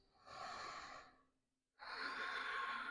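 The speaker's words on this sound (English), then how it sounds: "you can hear the sound of your breath whispering through the back of your throat" Two long, breathy exhalations drawn through a gently constricted throat in yoga ujjayi breathing, each about a second, separated by a brief silent pause, close and fairly loud with no talk.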